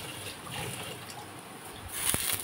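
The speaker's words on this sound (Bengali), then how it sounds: "এইটাতেই মাছের ঝোলটা ঢেলে দেবো" Singi fish curry broth pours into a pan holding fried matar dal bora, a soft watery trickle and splash that swells near the end, with no talk.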